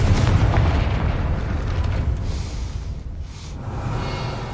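A Confringo blasting spell explodes in Hogwarts Legacy: a heavy, booming low rumble that starts at full strength and slowly decays over several seconds, with a faint airy whoosh trailing near the end.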